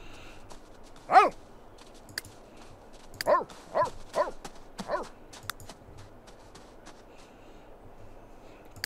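In The Sims 3 video game, a dog gives several separate barks: one early sharp bark, then a loose cluster of four or five more, each loud and close over a faint, quiet background.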